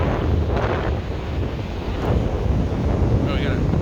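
Strong wind buffets the microphone at a beach at night while rough ocean waves surge and crash nearby, a loud continuous roar with swelling surf throughout.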